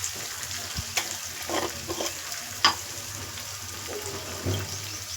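Crushed green chili pounded with salt and coconut stirred into Rayalaseema-style uggani: soft scraping spoon strokes over a light sizzle, with a few sharp clicks of the utensil against the pan.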